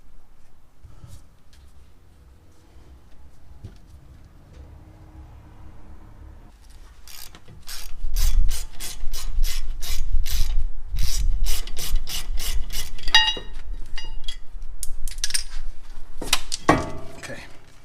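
Ratchet unscrewing the brake rotor set screw on a BMW X5 or X6 F15/F16, first faint fiddling, then a long run of loud, rapid ratcheting clicks close by, with soft handling noises at the end.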